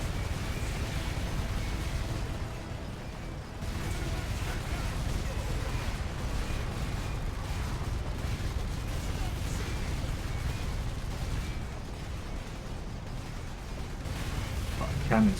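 Heavy cannon fire in a Warhammer-style combat video game, a dense continuous rumble of booming low-end blasts with a few sharper bursts near the end, heard loud and close.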